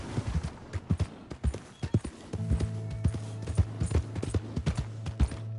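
Horse hooves clip-clop steadily in Red Dead Redemption 2, a close, rhythmic run of hoof beats joined midway by a low sustained hum.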